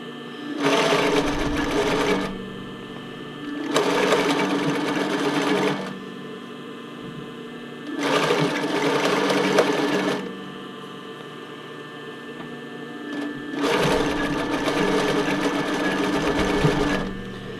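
A sewing machine stitches elastic onto a brief in four steady whirring bursts of about two seconds each, separated by quiet pauses with faint hum and handling noise.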